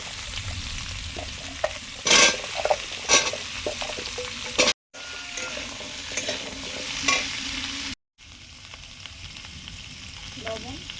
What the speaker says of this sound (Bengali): সর্ষের তেল তো ছিলই, শুকনো লঙ্কা, 5 ফোড়ন, ডাঁটা আর মিষ্টি কুমড়ো।